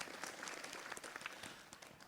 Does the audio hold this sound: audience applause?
yes